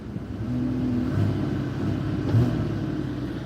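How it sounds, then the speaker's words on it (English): A car engine revs as the gas pedal is pressed, a steady close rumbling idle that swells slightly in two low surges. "I want to hear that engine a little better. Let me hit the gas."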